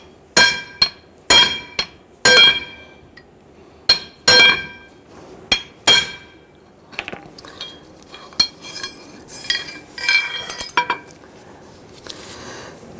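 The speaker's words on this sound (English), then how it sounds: "you can probably use a chisel to go ahead and split this" A hammer strikes a chisel against a rear wheel bearing race from a 1999-2004 Jeep Grand Cherokee, ringing metallic blows in irregular bursts, loud and close, some spaced and some in quick clusters toward the end.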